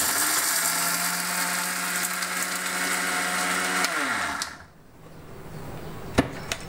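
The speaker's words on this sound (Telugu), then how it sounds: "మిక్సీ పట్టుకుందామండి." Mixer grinder runs at high speed crushing roasted spices with salt for Andhra-style karam podi, a loud steady whine that winds down and stops near four seconds, followed by a couple of sharp clicks from the jar.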